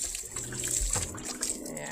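Water is poured from a container onto seedlings in a garden, a soft, quiet trickle and splash that runs on for a couple of seconds close by.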